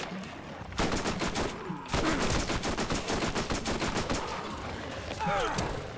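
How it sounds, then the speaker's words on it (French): Rapid automatic gunfire in the Borderlands video game, aimed at a skag, heard as dense, loud, close bursts of shots lasting most of the moment, with brief pauses and creature noises mixed in. "vas-y, tire sur un, je l'ai"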